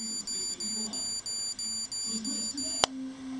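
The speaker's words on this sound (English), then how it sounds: "If you hold it down, it will beep 9 times." A GroovyPets GP330 pet trainer sounds its warning tone, a shrill electronic beep repeating rapidly in an even rhythm, nine pulses in a row, then a click and a faint lower tone.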